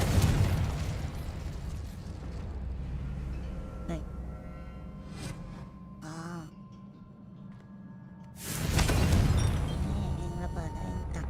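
A video game explosion from the Confringo spell bursts loudly near the end after quieter magical whooshes and tones, with a booming, rumbling tail.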